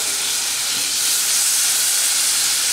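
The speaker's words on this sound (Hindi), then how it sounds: "अब हमें इसमें डालना है थोड़ा सा पानी।" Water splashed into a hot pan of frying spice masala for aloo chaat sets off a loud, steady hiss and sizzle that runs unbroken, close and alone.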